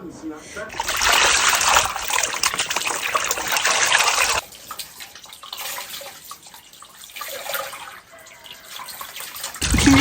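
Goat skin being rinsed under running water in a village setting, with loud splashing and gushing for several seconds, then a quieter trickle and handling sounds.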